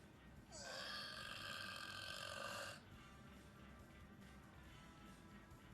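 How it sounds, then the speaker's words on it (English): A single long, loud burp of about two seconds with a throaty harmonic rasp, let out in a loudest-burp record challenge, rising abruptly and stopping sharply over quiet background hiss. "Loudest burp."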